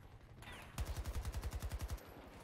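Gunfire in the video game Battlefield 2042: a near, loud automatic burst of about fourteen evenly spaced shots, after a quieter stretch of game ambience.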